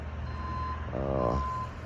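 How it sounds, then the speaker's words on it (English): A tow truck's reversing alarm sounds near a boat dock, one tone pulsing under a low engine rumble over a couple of seconds. "Tow truck."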